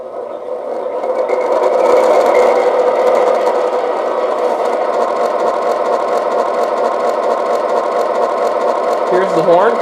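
An MTH Railking Union Pacific Aerotrain model train, powered from a transformer, plays its startup sounds. A loud, steady, humming diesel-style engine drone swells in and holds close and continuous throughout.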